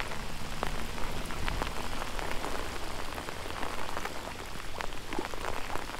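Rain falls steadily on a river in flood during a fishing outing, a dense close patter of drops hitting water and surfaces, even and continuous with no voices.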